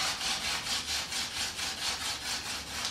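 A wooden spindle spun between the palms for a hand drill friction fire, giving a steady rhythmic rasping that pulses about three times a second, close and fairly loud with no talking.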